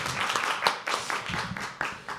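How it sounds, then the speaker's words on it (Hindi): Audience applause at a live poetry open mic at The Habitat, a dense patter of clapping with bursts of louder claps that run through the whole short stretch at moderate volume. "बहुत अच्छा पढ़ा भाई, ज़ोरदार ताली फिर से।"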